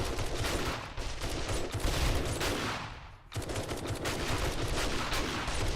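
Automatic weapon fire in the video game 7 Days to Die, a dense continuous rattle of rapid shots that briefly breaks off near the middle and then resumes, loud and close.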